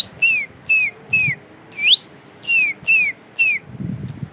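A person whistles an imitation of a cardinal call: seven short, clear, downward-sliding notes in a steady rhythm, close and loud, with a faint low rustle at the end.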